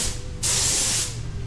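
A short burst of aerosol paint spray on a Lotus Carlton car hisses for about half a second, close and loud, then stops.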